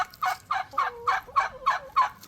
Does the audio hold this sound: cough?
no